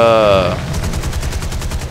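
Twin 20mm cannons on a Russian plane fire in a combat flight video game, a fast, steady burst of rapid thumping shots just after a voice speaks.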